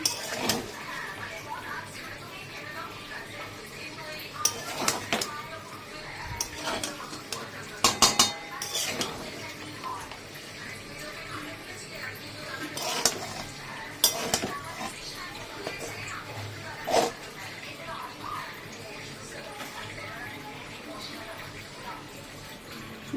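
Spoonfuls of fried rice are served onto a plate, with metal utensils scraping and clinking against the dish in scattered, close clatters and a few sharper knocks.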